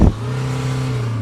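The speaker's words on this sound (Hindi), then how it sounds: "अगर आप इंटरेस्टेड हो इसकी एग्जॉस्ट सुनने के लिए भाई तो एक बार रेस देना" A 2026 BMW 330Ld M Sport, a diesel 3 Series sedan, gives a short sharp blip of exhaust revving up front, then settles into a steady, fairly loud low idle drone for the rest of the moment.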